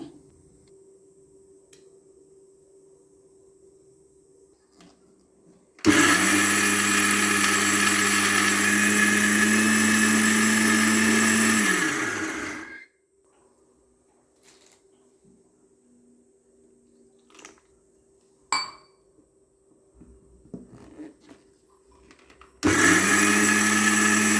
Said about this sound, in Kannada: ಇದನ್ನೀಗ ತೆಂಗಿನಕಾಯಿಯೊಂದಿಗೆ ಹಾಕಿ ರುಬ್ಬಿಕೊಳ್ಳಬೇಕು.